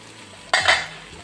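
A chicken fry being stirred in a pan and covered with a lid, restaurant style, gives one short clattering scrape and knock of metal, up close, after a quiet stretch, with faint sizzling under it.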